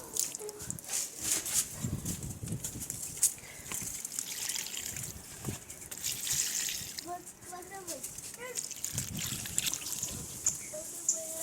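Homemade liquid fertilizer made from leftover curry is poured onto home garden plants, trickling and splashing intermittently while people talk nearby.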